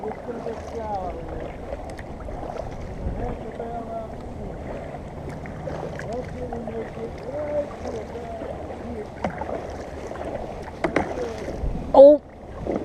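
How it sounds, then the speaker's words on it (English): A boat is paddled upstream on a river, with soft, uneven paddle strokes and water swishing close by under wind buffeting on the microphone, and a brief louder splash or knock near the end. "paddling upstream to do a little fishing"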